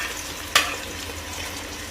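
Mutton masala curry cooks in a pan with a steady low sizzle, broken by one sharp splash or clatter as something is added, then the frying continues.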